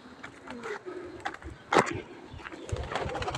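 A pet bird gives a few soft cooing calls, with a sharp flutter or snap near the middle, over low room rustling and faint background noise.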